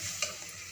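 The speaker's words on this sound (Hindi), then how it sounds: "मेथी का मैंने इसमें तड़का दिया है" A fenugreek tempering with garlic, chilli, cumin, coriander and black pepper sizzles in a pan, a faint, steady crackle with a soft stirring scrape.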